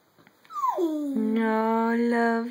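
A dog gives a single drawn-out whimper that slides down and then holds as a steady, close whine for about two seconds, with a faint murmur just before it.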